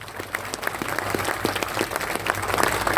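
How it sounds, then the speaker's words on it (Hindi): An outdoor protest crowd at Jantar Mantar claps for a visiting young MP, steady applause with a low hum beneath and no talk on top. "एक बार तालियां बजा दीजिए सर के लिए"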